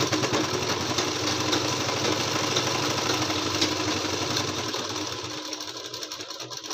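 An electric sewing machine stitches a patiala salwar, running as a loud, continuous, close whirring hum with a rapid needle chatter that keeps going for the whole stretch and eases slightly near the end.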